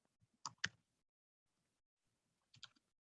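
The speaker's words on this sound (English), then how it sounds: "I'm typing in my URL right here" Two short bursts of computer keyboard keystrokes, quick clicks typing a web address, quiet and close with a pause between them.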